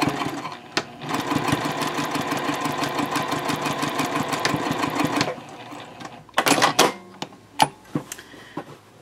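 Sewing machine stitching a bag seam with backstitching: a fast rapid mechanical whir of needle strokes for about five seconds, then stops, followed by a few short bursts and clicks.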